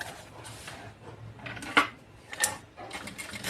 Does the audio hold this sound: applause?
no